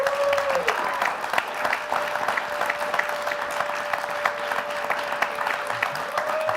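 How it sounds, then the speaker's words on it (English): A studio audience applauds guests at the close of a community discussion program, a steady dense wash of clapping that holds evenly throughout, with a faint tone running underneath. "Can we give our guests a round of applause?"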